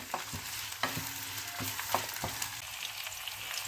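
Green chillies and garlic sautéing in a pan for mango ginger pickle, a low steady sizzle broken by a few sharp scrapes of a spoon stirring, fairly quiet and close, with no voices.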